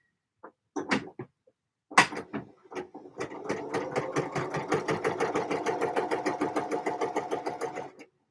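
Domestic sewing machine stitching a hem: a few short starts and stops, then a steady run of rapid needle clatter for several seconds, close and alone.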